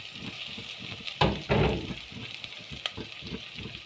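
Minced meat dropped into a hot pot for jollof rice, sizzling and frying with a couple of louder bursts as it hits the oil, then steady crackle and stirring scrapes close by.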